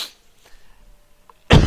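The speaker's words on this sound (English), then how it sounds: "So sorry for all this coughing." A single short, sharp cough bursts out near the end, loud and close, after a quiet stretch with faint background sounds.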